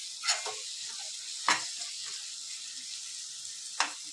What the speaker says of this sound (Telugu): ఇవి ఇప్పుడు ఒక 10 మినిట్స్ దాకా మనము ఇట్లా ఇవి మంచిగా ఆయిల్లో ఉడకనియాలి